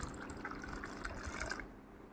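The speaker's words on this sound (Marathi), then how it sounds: "आता आपण याच्यात अर्धा ग्लास आपण पाणी घालणार आहोत" Water, about half a glass, pours into a bowl of protein dosa batter made from mixed lentils and pulses, a faint soft trickle and splash heard close but quiet, tapering off at the end.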